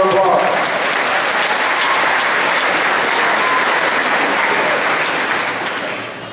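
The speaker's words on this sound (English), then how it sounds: "let's give them a round of applause." An indoor audience gives a round of applause for sousaphone players at a Tuba Christmas concert, with sustained, dense clapping that holds steady and then fades near the end.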